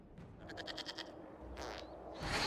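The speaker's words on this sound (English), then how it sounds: "we discovered this man attacking the building with a goat" A goat bleats in the video game Dragon Age Inquisition, a quick run of wavering, pulsed bleats followed by two more harsh cries at moderate volume, with no talk.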